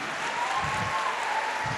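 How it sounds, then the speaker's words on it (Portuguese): Church congregation applauds, a steady, even roar of many hands clapping at once, with no pause across the short stretch. "Pode aplaudir agora para valer."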